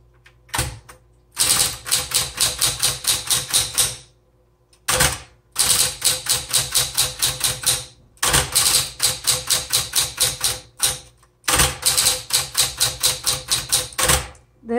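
Rapid keystrokes clack on a 1960s Coronet Automatic manual typewriter, fast rhythmic bursts of sharp strikes in runs of several seconds separated by short pauses, loud and close with no talking.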